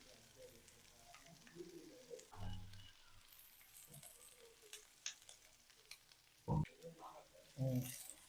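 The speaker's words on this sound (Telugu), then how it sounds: "ఫ్రై చేసుకోవాలి వన్ మినిట్ అలాగే one one and half minute అలా ఫ్రై చేసుకున్న తర్వాత" Chicken manchurian pieces frying in hot oil in a home kitchen give a low steady sizzle with occasional stirring knocks and a few louder clatters near the end, no talk.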